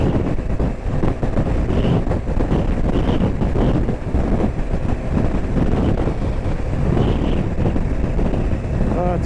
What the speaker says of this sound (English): Wow, that wind is really getting up now.